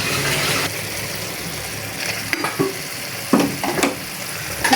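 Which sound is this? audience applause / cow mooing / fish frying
fish frying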